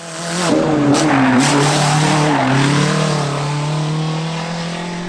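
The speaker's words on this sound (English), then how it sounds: "it sounds like the exhaust manifold is broken" A rally car engine with a broken exhaust manifold roars loudly and steadily at high revs, with a rough, rasping exhaust note and brief tire squeals early on, at Shackleton, Ballykelly.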